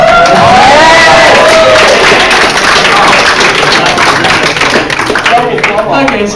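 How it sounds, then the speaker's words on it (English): Panel audience at a 2014 pony convention applauds after a video is shown, steady loud clapping with a few cheers and whoops that slowly thin out. "And there was an applause, so I guess that means something."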